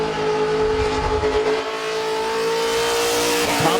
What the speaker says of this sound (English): 40 seconds into this skid for Hellbound.